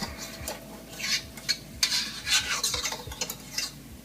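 Whipped cream frosting whisked by hand in a bowl, giving quick, fairly faint rhythmic scraping and swishing strokes close by.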